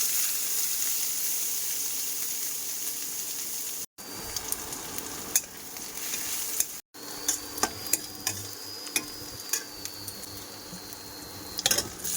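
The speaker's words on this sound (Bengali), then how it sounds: "ডিমগুলো লাল করে ভেজে নিয়েছি" Eggs fry in a pan with a constant bright sizzle and crackle, close and steady, with a few small taps and clinks of stirring on top.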